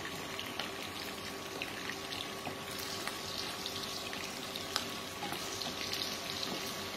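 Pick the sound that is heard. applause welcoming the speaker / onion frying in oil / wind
onion frying in oil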